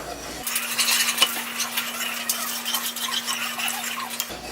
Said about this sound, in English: we need to constantly stir because we don't want to burn the chocolate